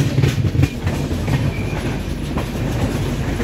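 A train rolls slowly through Dhekiajuli Road station, a steady rumbling clatter of wheels on rails heard up close and continuous, with no voices.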